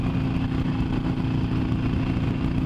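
A Harley-Davidson 883 Iron engine rumbles steadily and loudly up close while riding on the BR-101 highway, with a constant throbbing low drone and no pauses.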